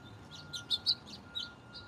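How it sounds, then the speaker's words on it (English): Small birds chirp in short, high bursts, a few quick calls spaced apart against a quiet background hum. "Can you hear the birds? The birds are singing."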